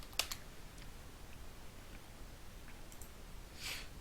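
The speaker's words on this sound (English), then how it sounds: "I'm going to type my password for IT admin" A password is typed on a computer keyboard in a quiet room, with a few scattered, faint key clicks and a short burst of taps near the end.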